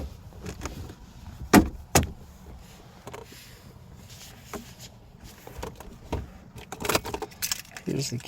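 Car keys for a 2019 Genesis jangle in a few sharp metallic bursts close to the mic, with quieter clinks and handling noise in between and a louder rattle near the end.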